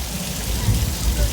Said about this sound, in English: it looks like the rain is just starting to come down pretty heavy